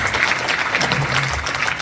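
Dense applause from an audience at an inauguration ceremony for the president of a Korean moral rearmament organization, steady and fairly loud across a short burst, with a hint of voices underneath.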